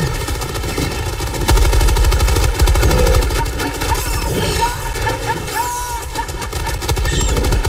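Sustained rapid automatic gunfire from Helldivers 2 rattles nonstop, close and loud, over a droning mechanical hum, with creature-like squeals breaking through the barrage.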